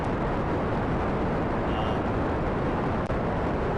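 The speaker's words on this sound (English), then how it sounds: "I apologize for the rocket noise." Rocket engine roar from Kerbal Space Program, a loud, steady broadband rumble that fills the whole clip with no letup.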